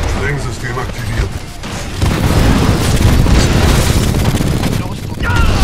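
Loud rumbling booms and blasts in a dense, sustained barrage, with a heavier burst midway, as a demolition system activates in Titanfall 2.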